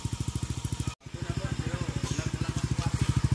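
Yamaha Aerox 155 scooter fitted with an Exos X-6 exhaust idles with a steady, rapid loping putter, loud and close, broken by one brief dropout before the even pulsing resumes.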